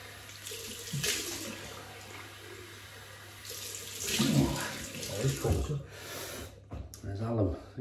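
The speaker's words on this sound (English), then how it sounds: "rinse with cold water" Tap water runs into a sink for a cold rinse during a wet shave with alum, a soft steady splashing with a sharp breath and faint sniffs near the end.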